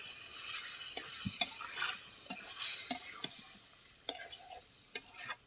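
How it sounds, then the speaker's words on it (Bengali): Fried prawns being stirred into a simmering curry: a spoon scrapes and knocks against the pan in irregular strokes, close and fairly quiet, over a soft sizzle. "ভেজে রাখা চিংড়ি মাছগুলোকে দিয়ে দেবো মিশিয়ে নেব"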